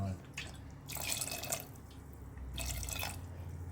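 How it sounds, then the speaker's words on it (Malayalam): Water runs into chickpeas in a pressure cooker, giving a continuous splashing pour with two brighter gushes, close and fairly quiet. "ആദ്യം നമുക്കിതിന് വേവാൻ ആവശ്യത്തിനുള്ള വെള്ളം ചേർക്കാം."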